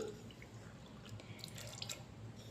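Water pours and drips into soaked toor dal in a kitchen vessel, a faint continuous trickle with light splashes over a low steady background, no one talking.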